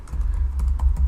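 Fingers tap on a computer keyboard, producing a quick, irregular series of close, crisp clicks, with no speech over them.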